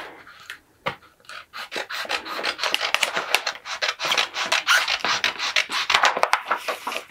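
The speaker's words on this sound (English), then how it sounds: "we're going to trim this backing sheet with just a pair of scissors" A pair of scissors trims a vinyl backing sheet for a porch sign, making a steady series of close, crisp snipping and rustling cuts for several seconds with no talk.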